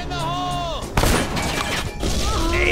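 A sharp, loud gunshot cracks through video game sound in Incinerado mode, a single punchy blast between stretches of game audio, with faint game tones before it and a further rustle afterward.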